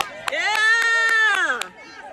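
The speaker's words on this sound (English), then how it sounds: "Everybody clap!" A crowd at a rally claps in an even rhythm, sharp repeated claps under a loud, sustained shouting voice.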